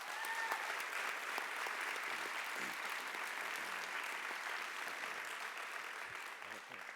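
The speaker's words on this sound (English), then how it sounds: "So I really want to give our teaching staff and our pairs as well, our classified staff, a round of applause" A school audience gives a sustained round of applause for teaching and classified staff, dense steady clapping that holds for the whole stretch and fades slightly toward the end.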